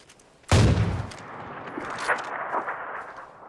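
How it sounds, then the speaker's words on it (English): A single loud, close gunshot in the battle royale video game PUBG cracks out sharply, then fades into a lingering echo with faint distant pops and scattered shots afterward. "He's still shooting at me."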